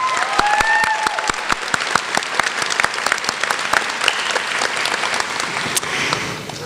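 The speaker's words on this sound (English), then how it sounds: "So, let's applaud the folks out there." A crowd at a nurses pinning ceremony applauds, a loud, sustained wash of clapping from many hands with a few crisp individual claps standing out near the front, lasting several seconds with no speech.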